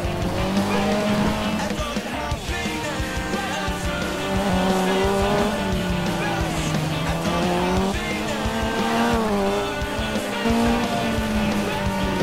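A Ford Escort MK2 rally car in the racing game Dirt 2 roars continuously with a rising and falling engine note, with tire squeal and skidding on a Croatian stage. The sound is loud and steady throughout, with no speech.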